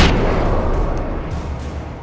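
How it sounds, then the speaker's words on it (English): A flashbang in Alan Wake goes off with a loud, sudden boom at the very start, then a long rumbling decay that fades slowly over two seconds. "Just can't get enough of them flashbangs"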